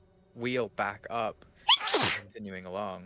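A single sharp sneeze bursts out between stretches of a man's speech during a tabletop roleplaying game session, close and clear.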